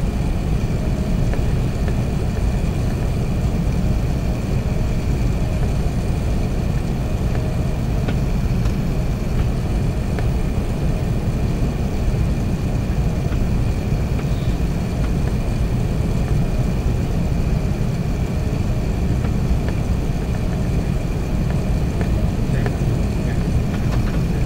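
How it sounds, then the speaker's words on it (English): Inside the cabin of an Emirates Airbus A380 airliner on final approach and landing at Christchurch Airport: a steady, loud broadband roar of engines and airflow holds throughout, with no talk. "we made our final approach into Christchurch Airport."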